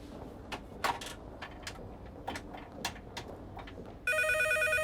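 A telephone rings out suddenly near the end in a TV series scene, a loud, bright electronic trill that cuts in after quieter clattering and small room sounds.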